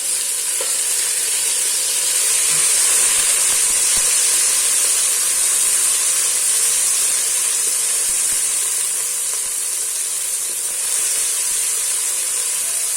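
Cumin and tomatoes frying in a pan for beetroot rice, giving a loud, even, steamy sizzle that holds steady throughout with no talking.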